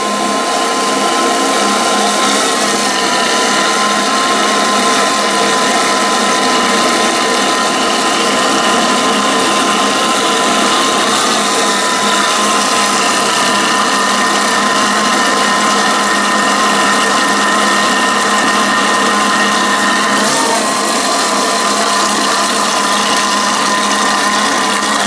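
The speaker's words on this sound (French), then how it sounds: "Là j'ai mis mon Thermomix vitesse 5 et je vais mettre les œufs un à un." A Thermomix runs at speed 5, beating eggs one by one into choux pastry dough: a loud, steady motor whir with a constant churning hum that holds close and unbroken throughout.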